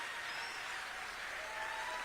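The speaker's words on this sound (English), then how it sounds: "sorry, that's your applause" A steady wash of audience applause at a Bernie Sanders event in Portland, Maine, fairly faint and distant, continuous hand clapping throughout with no voices over it.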